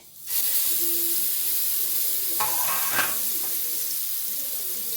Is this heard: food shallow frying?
yes